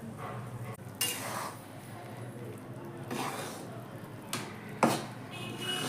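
Wheat flour roasting in ghee in a pan over low flame, with soft steady frying hiss broken by several spatula scrapes and clinks against the metal.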